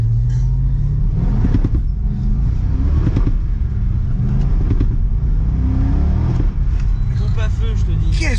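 A Corvette's engine revs and accelerates hard in a loud, close roar with repeated rising pitch sweeps between gear changes, while people talk over it.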